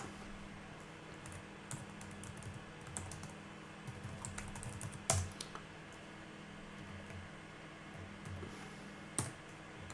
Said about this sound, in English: I don't know why I'm typing Ansible.